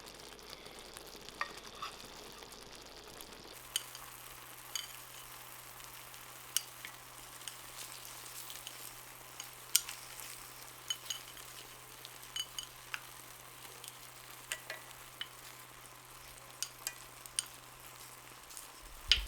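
A seafood mix set onto nearly cooked rice in a paella pan sizzles softly and steadily, with scattered light clicks and taps of placement throughout.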